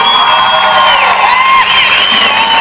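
A theatre crowd at a concert in Quito, Ecuador, roars with loud, continuous cheering, whistles and high shouts over steady applause, packed and close throughout.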